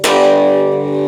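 A single distorted electric guitar power chord is struck loudly and left to ring out, sustaining evenly for about a second.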